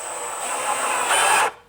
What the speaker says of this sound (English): We want to try to get right in the middle of there and drill a hole.